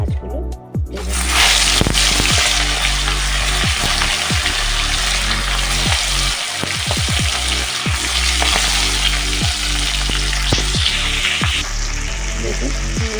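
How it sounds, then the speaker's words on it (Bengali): Large prawns frying in hot mustard oil give a loud, close, continuous sizzle with dense crackling and spattering pops, and no talk over it. "তো আমি এখন ওই তেলের মধ্যে মাছগুলো ভেজে নেব"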